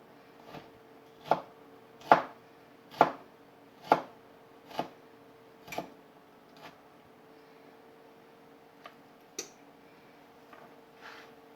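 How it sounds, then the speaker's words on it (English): A knife minces garlic on a cutting board, with about eight crisp chops at a steady pace followed by a few softer scattered taps, close and fairly quiet, with no talking. "I'm finally just mincing the garlic up"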